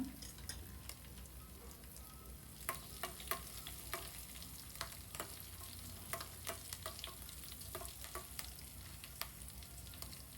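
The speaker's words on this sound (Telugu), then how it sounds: "ఈ పప్పులు మంచి కలర్ వచ్చేటట్టు వేయించుకుంటే బాగుంటుంది తాలింపుకి" Pumpkin seeds and thinly sliced green chillies frying in tempering oil for a kattu pongali, a quiet continuous sizzle broken by frequent sharp crackles and pops, close by and without talk.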